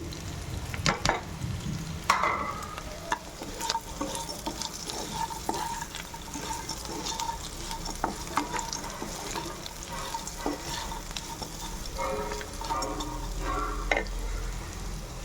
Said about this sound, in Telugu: సో ఇది కొంచెం వేగాక మనము పన్నీర్ ముక్కలు వేసేసుకున్నాము